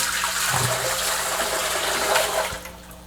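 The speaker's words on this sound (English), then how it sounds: "take your container with a gallon of water in there and just dump it in carefully" A gallon of water is dumped from a container into a brewing vessel, a steady full gush of pouring water that runs continuously and tapers off at the end.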